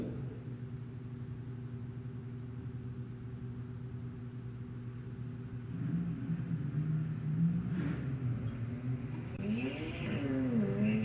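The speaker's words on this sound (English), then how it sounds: "Going against Fred Flores down at 1255 in the O'Reilly lane in the BMW." Drag racing cars at a Wednesday night drag strip, a gas-powered diesel against a BMW, with a steady distant engine drone that swells into rising revving whines as the cars accelerate, heard from afar without speech.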